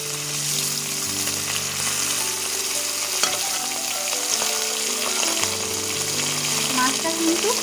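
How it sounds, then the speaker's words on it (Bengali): Koi fish frying in hot mustard oil in a wok, a steady loud sizzle and crackle with occasional stirring noises and a faint background tone, no speech. "এবার এর মধ্যে মাছগুলো ভেজে নেব।"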